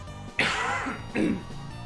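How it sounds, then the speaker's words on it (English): Two rough, throaty coughs, close to the microphone, with a brief pause between them and no talking, during a Deltarune gameplay session. "I'm gonna cough again, I'm sorry."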